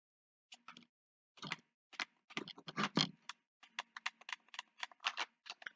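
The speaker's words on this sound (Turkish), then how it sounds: "klavyeyle buradan şeyler yazabiliyorsunuz. Gerçek klavyede ne yazdım bunları" Typing on a computer keyboard, in quick irregular bursts of key clicks with short pauses between them, close and fairly quiet, with no voices.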